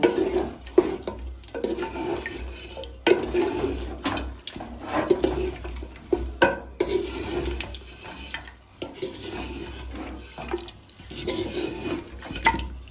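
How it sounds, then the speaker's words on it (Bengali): Irregular scraping and clinking as a spoon stirs goat meat curry in a clay pot, in short uneven bursts, fairly close, with no voices. "এবার এই মাংসটা সুন্দর করে কষিয়ে নেব"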